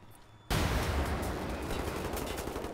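Gunfire in Wolfenstein: The New Order erupts suddenly after a short quiet moment, then continues as a dense rapid volley of shots, loud and close, with no voices over it.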